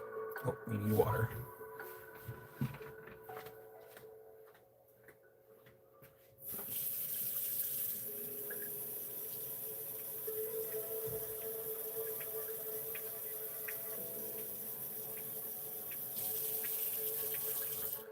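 A tap is turned on at a table and water runs steadily into a container for several seconds after some handling noises, a continuous close hiss.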